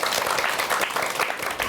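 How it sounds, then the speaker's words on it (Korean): A lecture-hall audience claps for a speaker being introduced, giving dense, steady applause close by for the whole moment. "여러분 큰 박수 부탁드립니다"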